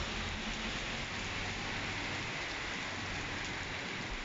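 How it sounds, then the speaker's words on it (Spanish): Rain pours down hard and steady during a thunderstorm in Paterna, a thick unbroken wash of drops with a low rumbling undertone and no voices. "Está lloviendo a cántaro, señores."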